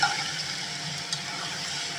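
Spiced okra cooking in a kadhai just after water is poured in gives a soft, steady sizzle and faint bubbling, quiet and close, with no talking over it.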